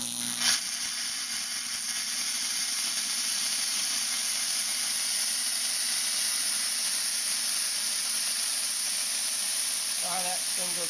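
Compressed air at about 40 psi blows steadily through a Jacob's ladder plasma arc, a loud, continuous broadband hiss and roar that holds for the whole stretch with a faint crackle beneath.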